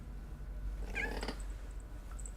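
A pet cat named Tally gives a single short meow close by, over a low steady background hum, with no talking.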